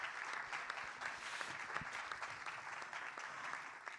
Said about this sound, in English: I would like to actually ask that everybody gives both the T20 Brazil Organizing Committee a big round of applause